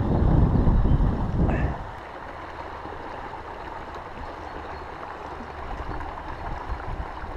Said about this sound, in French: Ah, le vent, c'est terrible.